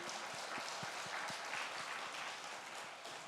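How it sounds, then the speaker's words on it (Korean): A congregation claps together in a room during a Friday worship service, the scattered hand claps blending into soft, even applause at a moderate distance. "우리 박수 한번 하겠습니다"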